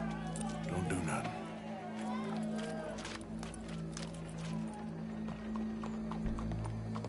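Horse hooves clip-clop steadily in Red Dead Redemption 2, with a brief whinny near the start, a low engine-like hum and distant crowd murmur, while voices talk over the top.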